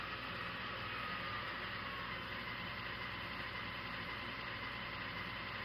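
Steady mid-level hum of an MTH Protosound 3 model locomotive's sound system, a continuous engine drone with broadband hiss and no clear rise or fall in pitch, running alone without voices.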